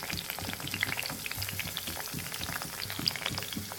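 Eggplant frying in oil in a covered pan for a yogurt eggplant dish, giving a steady, dense sizzle and bubbling crackle close by, with no talking.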